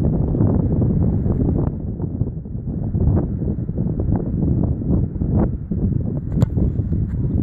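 Strong wind of about 20 mph gusts across the microphone on an open field where a kickoff is being practised, a steady loud rumbling buffet throughout with a few brief peaks.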